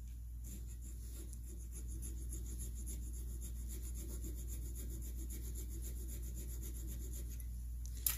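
A McCulloch piston ring end gap being filed, with quiet steady rasping strokes of a small file over a low constant hum, close and faint, with no talking.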